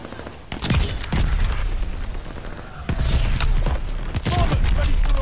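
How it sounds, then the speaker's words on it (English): A mortar barrage falls in a wartime shooter video game: a close, loud string of heavy booms and blasts, with rumbling thuds and crackling impacts that overlap throughout. "Allies calling a mortar barrage."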